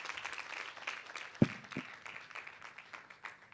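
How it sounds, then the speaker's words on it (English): Light applause from a conference audience for a youth work panel, a thin patter of hands with one sharp louder knock partway through, fairly quiet and distant. "A round of applause for our panel."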